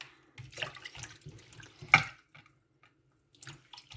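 Water splashes intermittently while spinach greens are washed in a kitchen, with soft irregular trickles and drips, one sharper splash, and short quiet gaps between.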